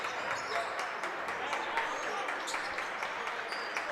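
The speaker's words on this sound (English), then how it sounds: "Matt Lindsay bringing on all the claps right now here in Mosinee" A crowd claps at a high school boys basketball game in Mosinee, a dense, steady wash of many hands with faint sharper pops of nearby clapping, filling the gym at moderate loudness.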